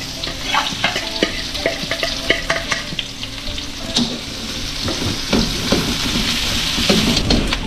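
Garlic and then onion sautéing in a pan before meat and mung beans go in: a busy, close sizzle with frequent clattering stirs and scrapes throughout, no voices.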